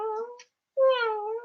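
A voice imitates a sleeping cat's snore, halfway between a purr and a snore: two close, breathy voiced bursts split by a brief silence.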